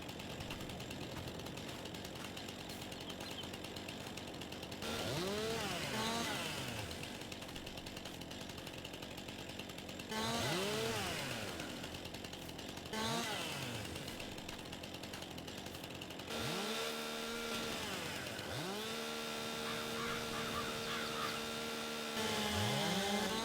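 A chainsaw running in Farming Simulator 22, its engine buzzing in repeated revving bursts with rising and falling pitch, steady and fairly close, no talking over it.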